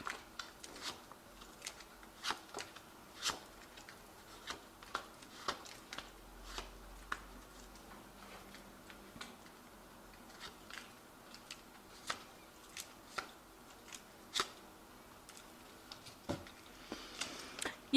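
Quiet, irregular tarot card shuffling: soft flicks and taps scattered over about eighteen seconds, close by, with no voices.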